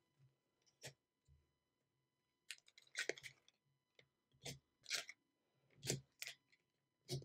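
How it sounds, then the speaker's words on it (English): Lenormand cards laid out one by one on a table, giving soft, brief taps and slides spread unevenly across the stretch with quiet pauses between, close and faint. "Go ahead and lay out your cards for option A."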